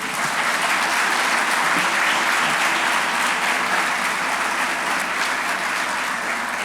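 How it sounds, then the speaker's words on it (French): Audience at a maritime institute graduation ceremony breaking into dense, sustained applause that fills the hall evenly from start to finish. "On peut applaudir."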